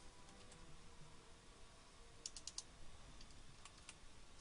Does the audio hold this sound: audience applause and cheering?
no